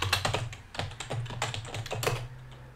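Fingers tap steadily on a computer keyboard, a quick run of close, crisp key clicks in uneven bursts with no talking.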